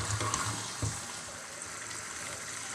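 About a litre of water poured into a cooking pot of chicken and radish curry with green chillies and coriander, a soft gushing splash that is faint and steady, no speech.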